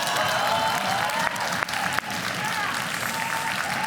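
A live crowd at a Clash of Clans Forums vs Reddit livestream event claps and cheers loudly and continuously, with an announcer speaking over the applause.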